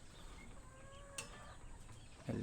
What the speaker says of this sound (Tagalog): sa mga manok natin dito